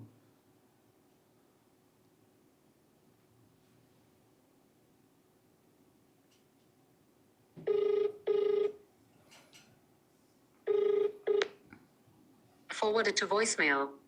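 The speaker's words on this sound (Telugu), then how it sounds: "కట్ చేస్తున్నారు, ఫోన్ ఎత్తట్లే" After a quiet stretch, a telephone rings in two short bursts, then two more, followed by a different chirping tone; nobody picks up.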